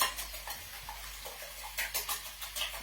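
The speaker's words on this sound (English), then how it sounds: "So if you put the eggs in there and give them a good whisk." Six eggs whisked in a bowl for a frittata: quiet, quick rhythmic clinks and taps of the whisk against the bowl, close and alone.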